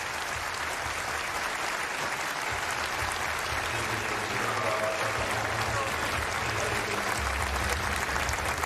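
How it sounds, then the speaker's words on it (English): A women's college basketball crowd at the XL Center applauds steadily as an injured Xavier player is helped off the court, sustained clapping filling the arena with a commentator talking over it. "A nice hand from the XL Center crowd for the Xavier player as she's helped off"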